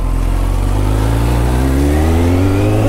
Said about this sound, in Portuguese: Acelerar essa moto.